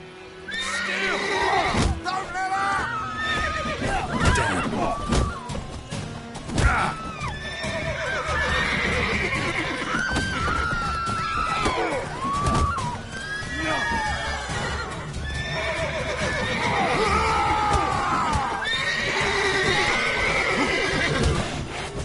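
Horses neigh and whinny repeatedly amid steady clip-clopping hooves in The Witcher video game, loud and near, with a voice speaking over parts of it.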